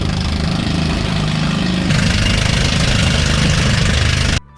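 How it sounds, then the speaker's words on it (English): A loud boat engine drones steadily with a low, throbbing rumble, running continuously without pause before cutting off abruptly at the end. "By the way, engines tend to be a bit noisy."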